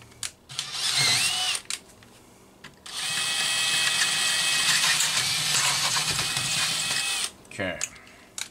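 A power drill bores out a bolt on a McCulloch 130 chainsaw casting: a short burst of whirring, a pause, then one long, loud, close run before it stops.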